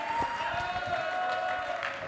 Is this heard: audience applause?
yes